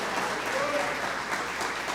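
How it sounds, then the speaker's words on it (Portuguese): Church congregation clapping during a family celebration service, dense continuous applause filling the room at fairly close range, with voices mixed in beneath. "Vamos nos levantar e bater palmas"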